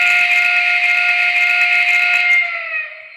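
A steady, shrill steam-style whistle from a Lionel toy train switcher engine blows for a few seconds at close range, then tapers off, with no talking.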